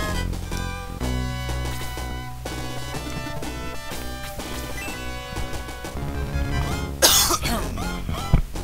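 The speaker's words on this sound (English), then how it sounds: "Had to move my microphone a bit away to cough" A man coughs several times away from the microphone, harsh muffled bursts over continuous retro video game music for Shining Force, ending in a sharper cough near the end.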